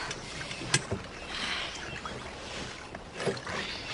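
A small boat rowed with oars on open water, with soft rhythmic splashes and dips of the blades over a steady outdoor wash, one sharper splash standing out near the start.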